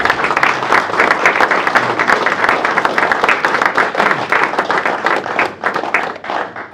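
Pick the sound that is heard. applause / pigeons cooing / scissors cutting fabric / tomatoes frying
applause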